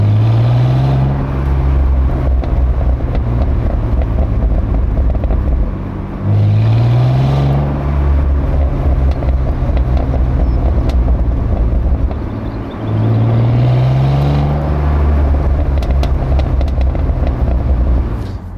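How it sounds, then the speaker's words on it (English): BMW Z3 six-cylinder engine and exhaust, heard steadily and up close while driving at low speed, with a continuous low burble that swells and dips in three repeated cycles as the throttle is eased on and off; no talk over it. "at low speeds, when you lift off, you get this most wonderful and delicious burble, and the occasional pop too"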